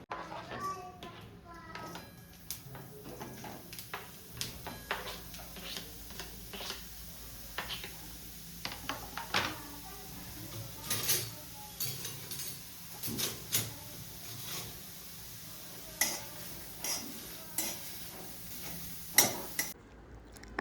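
Repeated knife taps on a cutting board as onion is chopped for poha, irregular clicks and a few clinks of utensils in a home kitchen, with a voice in the background.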